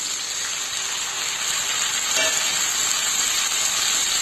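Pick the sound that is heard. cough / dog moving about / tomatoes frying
tomatoes frying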